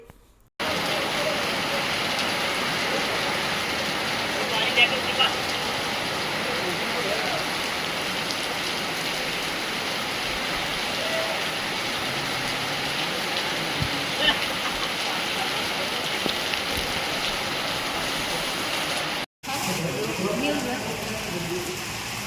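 Steady, dense rain hiss over farm fields fills the whole clip at constant loudness, with a brief dropout near the end; no clear voices stand out.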